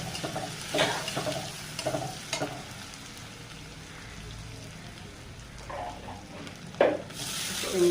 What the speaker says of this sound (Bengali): চিংড়ি মাছগুলো একটু ভেজে নিই